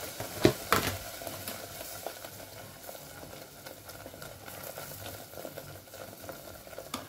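Masala with turmeric fries at medium heat in a pan for mushroom curry, giving a soft, steady sizzle close by. A few knocks of stirring sound near the start.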